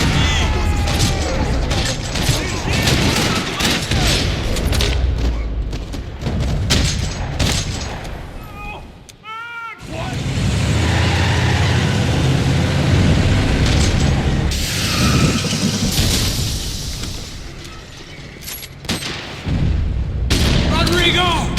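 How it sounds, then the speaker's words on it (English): Dense, rattling gunfire from the Max Payne 3 video game in a parking-lot shootout, with sustained bursts and booming shots that pause briefly midway before resuming loudly. "Another parking lot rattling with gunfire."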